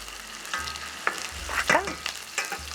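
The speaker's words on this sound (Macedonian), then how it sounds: "И не треба многу да се пржи, само 1 минута му е доволно." Fresh onion frying briefly in a pan, with a steady close sizzle and occasional stirring scrapes and clatters.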